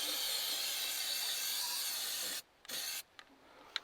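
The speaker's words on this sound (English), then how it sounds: "And for this application, I'm going to use some galvanizing compound." Galvanizing compound sprays from an aerosol can onto rust spots on a John Deere tractor in cold Maine winter conditions, a steady loud hiss for over two seconds, then a short burst, then faint taps and clicks.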